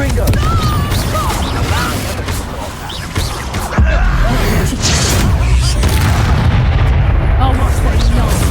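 A spell blast in Hogwarts Legacy set among busy combat noise, with dense bursts, crackles and booms running throughout and a sharp loud hit near the middle, while a voice speaks over the fight.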